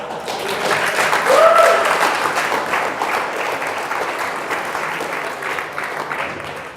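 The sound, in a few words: audience clapping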